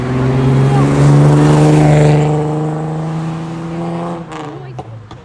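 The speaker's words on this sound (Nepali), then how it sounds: "बाइकको आवाज पिटिक्कै मन पर्दैन पुरै कानै हाने गरेको" A motorbike engine drones loud and close with a steady humming tone that gradually fades, followed by a few sharp clicks near the end.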